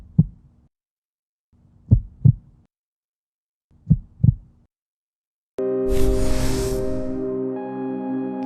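A heartbeat sound effect: three deep, muffled double thumps spaced evenly apart, followed by a loud sustained tonal swell that fills the rest, with no voices present.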